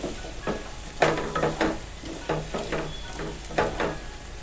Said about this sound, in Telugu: ఆలుని ఒక రెండు నిమిషాలు ఇందులో ఫ్రై చేసుకోవాలి